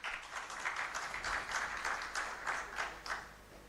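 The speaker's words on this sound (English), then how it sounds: "Let's clap for him" A conference audience at an investment week panel claps for a banking panelist, light, uneven clapping with audible individual hand strikes, moderately faint and continuing throughout.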